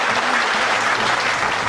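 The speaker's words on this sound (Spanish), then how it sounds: "Fuerte el aplauso." A studio audience applauds steadily and loudly for a university agronomy dean arriving on a television program, with dense clapping throughout and no pause.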